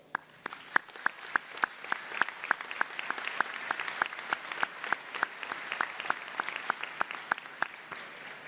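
At a university graduation ceremony, the audience gives a round of applause, with sharp individual claps standing out in a fairly even rhythm over a softer bed of clapping from the crowd, moderately loud and without talk.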